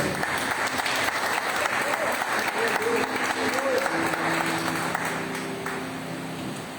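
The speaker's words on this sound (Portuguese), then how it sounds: "aplauda Jesus pela vida da pastora" Sustained applause from a large church congregation fills the room during a Wednesday service, steady throughout and easing slightly toward the end, with some voices mixed in.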